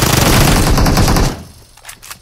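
PUBG Mobile gunfire: a loud, rapid automatic burst of about a second, then a few fainter scattered shots as it fades.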